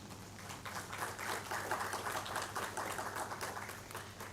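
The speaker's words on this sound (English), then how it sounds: "A round of applause, please." Faint audience applause at a university inaugural professorial lecture, a steady patter of many hands clapping, heard from a distance over a low hum.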